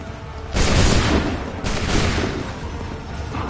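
Musket volleys ring out in Assassin's Creed 3, two loud, broad blasts of massed gunfire about a second apart, each rolling into a long, rumbling decay.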